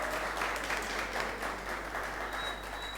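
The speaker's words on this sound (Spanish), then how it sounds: "Aplauso." A small crowd at a church gathering breaks into steady clapping applause for a prize winner, continuous and moderately close for a few seconds.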